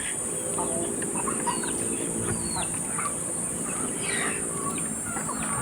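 Ducks and hens feed on rice bran and corn mixed with molasses and salt, with scattered clucks and quacks from several birds over a steady high insect drone and a busy outdoor farmyard background.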